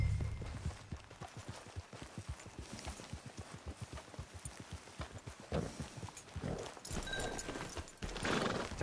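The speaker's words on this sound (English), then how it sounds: "Get your horse." Horse in the video game Red Dead Redemption 2 walks with steady clip-clop hoofbeats throughout, then gives a louder neigh and snort near the end.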